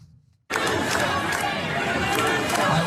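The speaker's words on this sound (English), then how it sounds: "That's a crowd confronting Ohio's governor, Mike DeWine, arguing that he needs to do something about mass shootings." A loud crowd confronts Ohio Governor Mike DeWine over mass shootings, breaking in suddenly after near silence into sustained dense shouting and chanting voices that stay at a constant roar.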